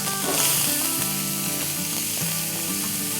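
Grated onion frying in hot oil in a pan, a steady loud sizzle running throughout with some stirring clatter and tonal music or hum underneath.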